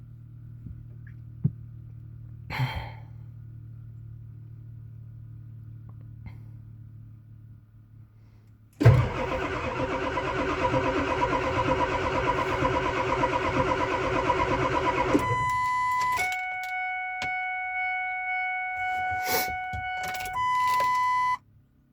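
Cold start of a 1999 7.3 diesel engine: after a low, quiet electrical hum, the engine bursts abruptly into a loud, rough running clatter for several seconds, followed by steady electronic chime tones.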